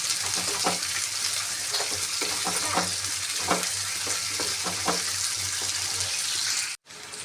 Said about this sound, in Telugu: ఈ ఉల్లిగడ్డలు అన్నీ వేసుకుని మంచిగా ఇవన్నీ వేసుకొని ఒకసారి మంచిగా కలుపుకుందాం